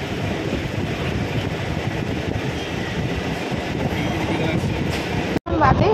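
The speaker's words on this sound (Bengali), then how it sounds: "আমাদের ট্রেন পানাগড় জাংশন ক্রস করে তার পরবর্তী গন্তব্যস্থল বর্ধমান জাংশনের দিকে রওনা দিয়েছে" The Suri–Sealdah MEMU Express runs past Panagarh Junction toward Bardhaman, its steady rumble and rattle of carriages loud and continuous from on board, cut by a brief break near the end.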